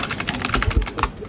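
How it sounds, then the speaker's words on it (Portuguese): A headset drops onto a computer keyboard, setting off a close, loud burst of rapid plastic clacks and key rattles that lasts about a second before settling. "O fone caiu em cima do teclado"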